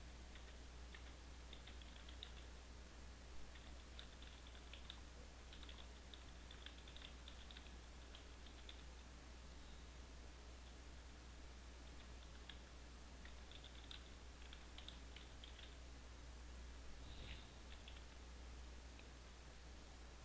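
Quiet, rapid clicking of a computer keyboard as a caption is typed, irregular bursts of keystrokes over a steady low hum of background noise.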